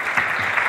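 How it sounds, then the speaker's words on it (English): Audience applause for the speakers at the close of an industrial policy panel event, a steady wash of clapping filling the room for a brief moment. "I want to ask you to join me in giving a round of applause to our speakers today"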